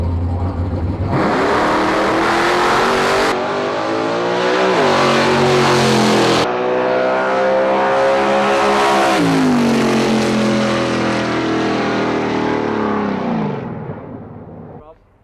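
A purpose-built late model race car with full chassis, built like a super stocker, revs hard and loud up through the gears, its engine note rising and falling for several seconds before fading away at the end, alone without talk.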